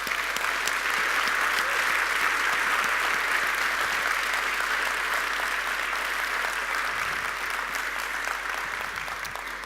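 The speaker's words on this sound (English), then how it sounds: "please, this is the time to give them a round of well-deserved applause" Sustained applause from a conference audience fills the room, a dense, even clatter of many hands clapping continuously throughout at steady loudness.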